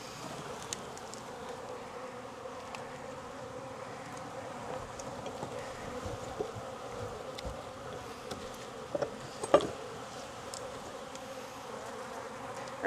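Honey bees hum around an open hive in a Jacksonville, Florida apiary in late season, a steady low drone of many wings with a few louder passes close by and no talk.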